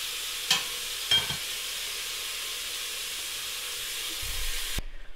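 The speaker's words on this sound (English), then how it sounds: "our meat has been nice and browned off" Beef shank browning in a pot for caldo de res, giving a steady soft sizzle and hiss throughout, broken by a couple of brief utensil clicks and a low stir near the end before it cuts off.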